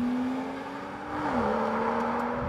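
A BMW M760Li accelerating hard in a drag race against a Skoda Superb 280, its engine drone holding steady, dipping briefly as it shifts gear, then pulling on strongly, with no voices.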